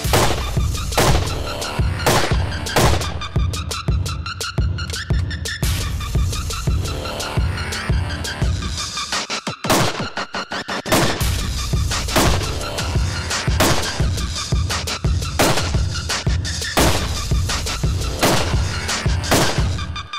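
Carbine gunshots ring out at a practical shooting competition in Boryspil, a dense run of sharp, loud reports firing in rapid bursts with brief pauses between strings.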